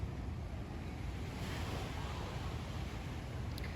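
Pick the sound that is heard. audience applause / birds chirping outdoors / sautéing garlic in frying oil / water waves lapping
water waves lapping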